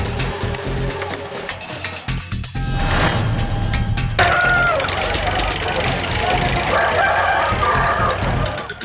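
Country chickens at a weekly village market in Pochampalli, Krishnagiri district, with a rooster crowing and hens clucking amid crowd noise and a passing vehicle, under a news narrator's voice.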